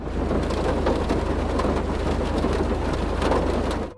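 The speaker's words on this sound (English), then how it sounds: "when it's raining, you can hear pattering sounds when the rain hits your car" Steady rain pattering on a car in a GTA video game, a dense, even hiss of drops that holds constant for four seconds with no voices.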